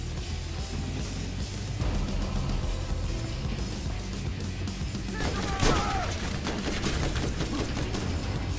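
Steady rattling gunfire in Borderlands, a continuous stream of close automatic shots with a sharper impact partway through, while a voice talks over it.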